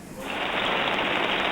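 Heavy rain pours steadily as a dense, loud hiss that swells in after a quiet moment and then holds without letting up, with no voices over it.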